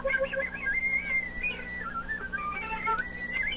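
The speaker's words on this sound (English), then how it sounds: "And here's my whistle." Faint, thin, high flute whistle tones that waver and glide in pitch over a soft background hiss.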